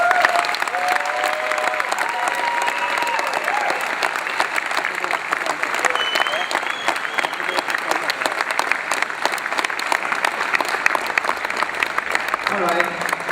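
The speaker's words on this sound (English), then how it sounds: "let's give a big round of applause to the students" An audience at a student awards ceremony applauds for the students in a dense, sustained round of clapping that lasts about thirteen seconds, with crowd voices mixed in.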